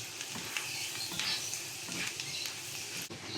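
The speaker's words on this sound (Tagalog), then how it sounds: "Patunaw lang tayo ng butter guys. Tapos igisa natin yung ating bawang." Chopped garlic sautéing in melted butter for salted egg pasta gives a close, continuous sizzle with soft stirring scrapes, steady and alone.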